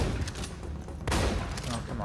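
Weapon fire in the video game Red Faction: Armageddon, a dense rattling volley of shots with a second louder burst midway, close and loud over busy game noise.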